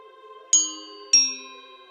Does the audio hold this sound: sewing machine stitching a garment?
no